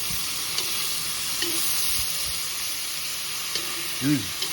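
Vegetables frying in olive oil give a steady, loud sizzle across the whole stretch, with a brief stir or scrape and a faint voice-like sound near the end.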